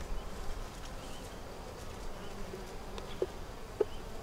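Honey bees buzz around an open hive during an inspection, a faint continuous hum with a couple of brief louder passes as bees fly close.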